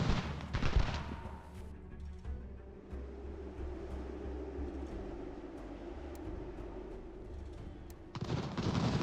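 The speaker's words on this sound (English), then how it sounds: "Helps if you point the cannons in the right direction, gents." Loud booming cannon blasts from the video game Ultimate General: American Revolution open and close the stretch, with a low rumbling din in between.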